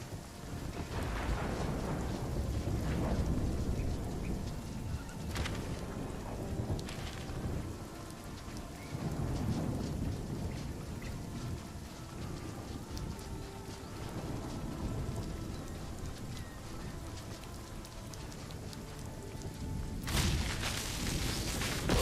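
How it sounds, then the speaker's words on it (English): Steady rain pours throughout a thunderstorm in RuneScape: Dragonwilds, with several deep rumbles and sharp cracks of thunder, and a loud close crash near the end. "If there's a way to get this cursed storm to stop, I'd be very happy."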